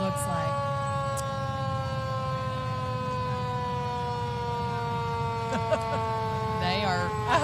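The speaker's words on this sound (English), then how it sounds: "I hope everyone can hear the siren." A fire engine's siren holds a loud, steady wail at an Independence Day parade in Arlington, sustained tones continuing throughout over a low rumbling idle, with brief crowd noise near the end.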